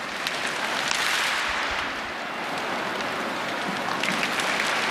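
A stadium crowd at the 2010 athletics World Cup clapping along with high jumper Blanka Vlasic, a dense, steady roar of applause that rises and falls slightly, with no individual claps standing out.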